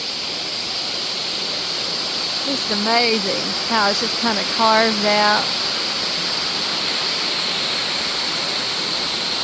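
Cascade Falls in Jefferson National Forest, Virginia, pours down as a constant, loud rushing hiss that holds unchanged throughout, while someone talks briefly over it in the middle.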